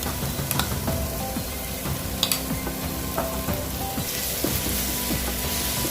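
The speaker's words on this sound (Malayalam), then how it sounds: "ഒന്ന് ഇളക്കിയിട്ട് വെളുത്തുള്ളിയുടെയും ഇഞ്ചിയുടെയും പേസ്റ്റ് നമ്മൾ അരച്ച് വെച്ചത്" Garlic and ginger paste sizzling steadily in hot oil while stir-frying a spicy crab roast, a dense continuous crackle with occasional sharper pops and faint stirring scrapes.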